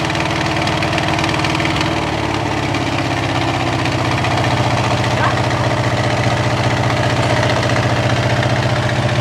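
A 1951 Chrysler Saratoga eight-passenger limousine engine idles loud and close after starting for the first time in over 30 years, with a steady, slightly uneven low rumble and faint knocking.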